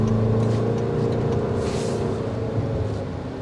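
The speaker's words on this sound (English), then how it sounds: "you're going to hear the engine filter in because, I mean, let's face it, it's a 4-cylinder." Toyota Grand Highlander 2024 with a 4-cylinder engine while driving, a steady loud low engine drone and road rumble heard from inside the cabin, constant throughout with no talk.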